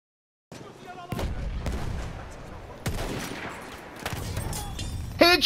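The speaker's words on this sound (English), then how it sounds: "Shot with the Kolibri." Battlefield 1 battle gunfire, with a Kolibri pistol in use: several sharp shots and booming reports spread across a noisy combat soundscape, with a brief quick burst near the end.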